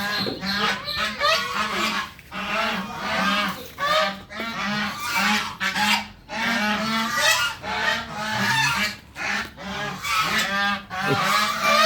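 A flock of ducks quacks loudly and continuously nearby, overlapping honking calls in rapid bursts with short pauses.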